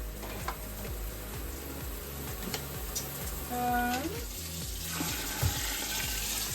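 Running water pours from a tap into a pot, just enough to cover muscadine grapes, the pitch rising faintly as it fills, with a low voice murmuring underneath.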